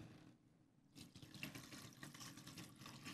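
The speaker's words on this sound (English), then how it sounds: "pour my water in it." Water pours into a meatloaf mixture in a bowl, a short, soft splashing trickle that starts after a brief near-silent moment and continues faintly to the end.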